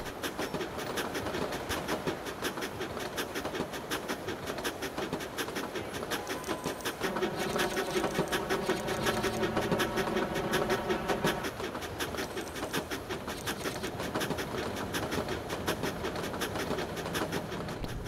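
A train in the video game LEGO City Undercover rumbles along its rails with a steady rhythmic clatter, swelling louder with a grinding metallic tone midway, then settling back to a continuous run.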